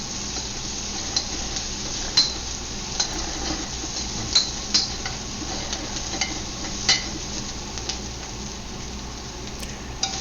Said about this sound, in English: So we're going to add the broccoli now.